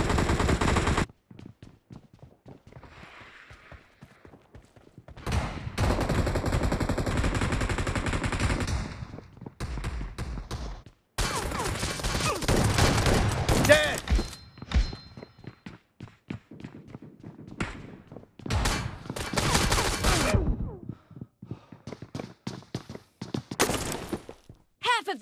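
Bursts of automatic gunfire in a BGMI video game gun fight, rapid loud volleys alternating with brief quiet gaps, with scattered single shots and footsteps, and a voice speaking in places.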